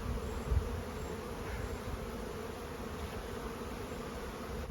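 Honeybees from a nucleus colony buzz steadily as the hive is opened and smoked, a continuous close hum with a brief thump near the start and no talking.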